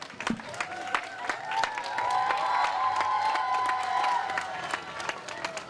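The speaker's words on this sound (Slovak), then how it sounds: "Takže obrovský potlesk, dámy a páni, k tomuto krásnemu momentu a krásnemu gestu" A crowd at an outdoor cycling event start claps and cheers in a sustained burst, loud and continuous, with a voice over a speaker system audible through it.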